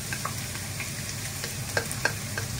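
Sliced courgettes sizzle steadily in a smoking-hot pan with a little olive oil, a close continuous frying hiss broken by a few light clinks of a utensil stirring them.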